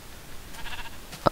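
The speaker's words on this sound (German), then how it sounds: "Ein Schaf im Let's Play." A Minecraft sheep gives a short bleat near the end, after a quiet stretch of faint game ambience.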